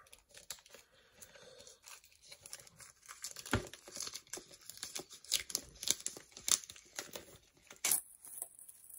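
Packaging of The Mask steelbook Blu-ray is opened by hand: close, quiet crinkling and tearing of plastic wrap in irregular bursts, with sharper snaps and crackles toward the end.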